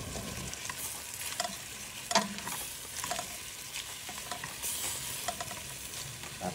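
Vegetables such as string beans, winged beans and jicama go into a pot of sinigang with roasted chicken lechon, giving soft stirring scrapes and light bubbling sizzle with a few sharper clinks, steady and close, no talk.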